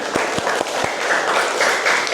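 Children in a school assembly clap together briefly, with a few distinct loud claps at the start giving way to a softer, blended patter and a faint background murmur.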